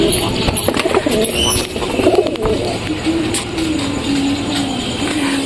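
Pigeons cooing inside a pigeon loft, a steady chorus of low rolling coos with occasional wing flutters, close and continuous throughout.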